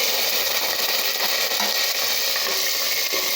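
Garlic cloves, added with small onions to oil already holding cumin and dried red chillies, fry in a pan for a Coimbatore-style green field bean kuzhambu, giving a steady, dense sizzle that runs evenly and alone throughout.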